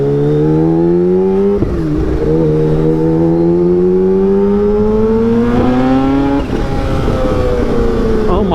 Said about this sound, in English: first time ever riding a Ninja H2